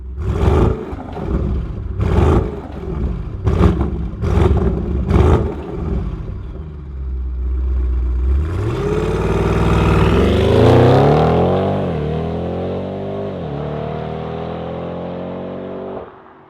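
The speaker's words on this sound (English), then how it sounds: "let's fire up this RS7 and hear what that Akropovic exhaust sounds like" A 2023 Audi RS7 with an Akrapovic exhaust idles with several sharp throttle blips, then starts up with a loud, deep roar that builds and rises in pitch through a long rev before settling back down, close by and without voices.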